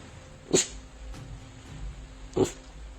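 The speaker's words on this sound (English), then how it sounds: "The clip shows the dog on high alert for 5 minutes, growling, barking, and whining." Dog on high alert indoors at night, giving two short sharp bark-like bursts about two seconds apart over a low background hum.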